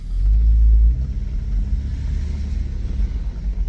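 A 1994 Toyota Land Cruiser FZJ80 engine gives a loud, deep low rumble that swells in the first second as it revs and pulls away, then settles into a steady drone, with no talking.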